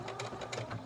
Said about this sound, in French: Avant d'arriver à la fin, vous faites 3 points en arrière